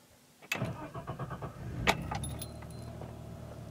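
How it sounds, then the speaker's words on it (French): A BMW E34 engine cranks and starts after an idle actuator replacement: keys jangle, the starter churns in quick pulses, the engine catches with a louder burst, then settles into a steady close idle. "là, je vais essayer de la démarrer"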